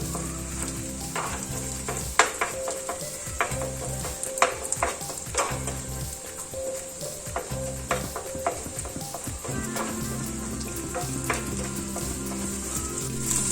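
Eggs seasoned with salt and pepper being scrambled in a pan: steady sizzling and frying with repeated sharp scrapes and stirring knocks of a utensil against the pan, close and clear, with no talking.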